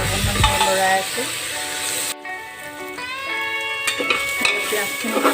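Red lentils and onions fry in a pan while being stirred, a continuous sizzle with occasional scrapes, heard beneath prominent melodic background music.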